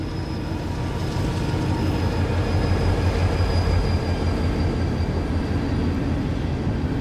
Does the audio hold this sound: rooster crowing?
no